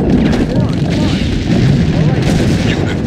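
Loud, continuous battle din of artillery fire in the World War II strategy game Sudden Strike 2 at the Anzio docks, with deep booming blasts and rumbling explosions layered densely for the whole stretch.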